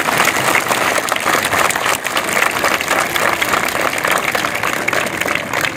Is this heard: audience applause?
yes